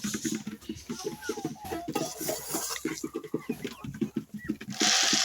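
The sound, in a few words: chickens clucking while being fed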